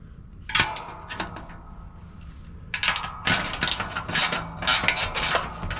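A crank-type tensioner on a Polaris Ranger snow plow mount is ratcheted by hand, giving close, irregular bursts of clicking, grinding metallic ratchet sounds with short pauses between turns.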